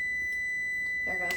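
A continuous high-pitched electronic beep drones steadily, then a voice starts talking over it near the end.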